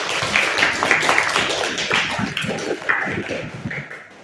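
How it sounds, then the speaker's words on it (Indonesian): Classroom applause during a lesson, a steady burst of many hands clapping close by for about four seconds, with scattered voices mixed in and the clapping tapering slightly at the end. "Tepuk tangan."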